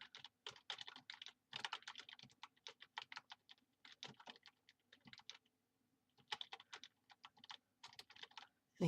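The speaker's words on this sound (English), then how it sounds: "Okay, I'm just going to type the directions here." Steady close typing on a computer keyboard, bursts of quick key clicks with short pauses between words and a brief gap near the end, quiet and alone without talk.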